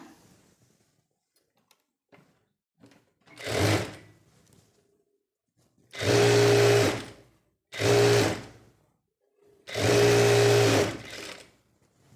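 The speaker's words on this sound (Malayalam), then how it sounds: "സ്ലീവിൻ്റെ അടിഭാഗം നമുക്കൊരു അര ഇഞ്ച് ഇങ്ങനെ മടക്കിയിട്ടിട്ട് സ്റ്റിച്ച് ചെയ്യാം" Sewing machine stitching a folded half-inch sleeve hem on a churidar top made from nightie fabric, running in four loud close bursts of steady whirring separated by quiet pauses and small handling clicks.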